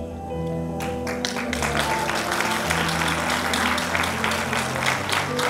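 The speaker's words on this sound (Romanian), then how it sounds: "Aplauze pentru doamna profesor" Audience applause for a teacher at a centenary school ceremony at Liceul Barbu A. Stirbey in Buftea, steady crowd clapping filling the whole stretch over a low sustained musical background, fairly loud and continuous.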